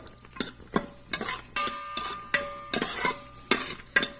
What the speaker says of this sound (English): I'm just going to roast these cashews a little bit, just till they change the color.